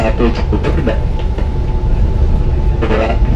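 The Taksaka Panoramic passenger train rolls along with a loud, steady rumble. Faint rhythmic clatter and some background noise run throughout.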